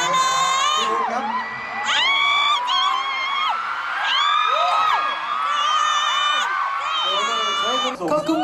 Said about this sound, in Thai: ส่งเสียงเชียร์พวกเราเยอะมากๆ